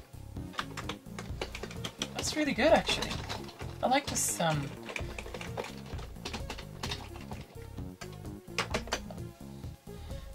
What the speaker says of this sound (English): Keyboard, of course, to test your keyboard.